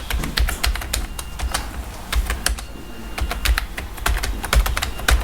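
Fast, loud clattering keystrokes on a computer keyboard, near and continuous in quick irregular bursts, with no voices over them.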